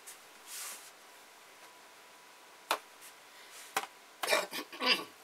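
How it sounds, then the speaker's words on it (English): Faint, quiet rasping strokes of hand sanding on a wooden ventriloquist dummy figure, a few isolated scrapes and then a quicker cluster of short rubs near the end. "And then regular old hand sanding"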